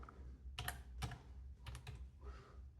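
Keys clack on a computer keyboard in a few short bursts of quick taps with pauses between, close and quiet with no voices.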